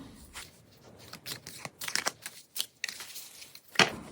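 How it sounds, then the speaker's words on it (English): Tarot cards are shuffled, handled and laid down on a surface in a series of close, crisp flicks and soft slaps, irregular and quiet, with no talk. "Let's put down some cards."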